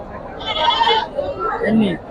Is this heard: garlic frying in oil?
no